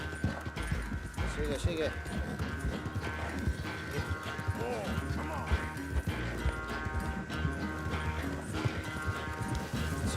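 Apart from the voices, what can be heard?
horse galloping, clip-clop hooves in Red Dead Redemption 2 video game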